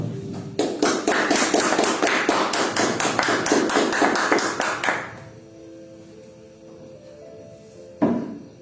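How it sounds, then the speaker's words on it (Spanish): A church congregation applauds at a Friday teaching service, a dense burst of many hands clapping for about four seconds before fading, followed by a quiet room and a single sharp knock. "Pero un aplauso al Señor"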